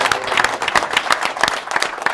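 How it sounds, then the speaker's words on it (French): An audience at a Christmas show applauds Santa Claus, steady close clapping from a small crowd with no talking over it. "On doit applaudir le Père Noël"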